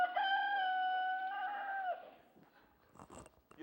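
Rooster crowing in a barnyard in Guyana, one long loud drawn-out crow near the mic, followed by softer scattered clucks and rustling from chickens.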